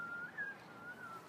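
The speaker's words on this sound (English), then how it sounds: "there's a kid over here who's whistling." A child whistles a faint, wavering tune some distance away, a thin sustained whistle heard alone over quiet room tone.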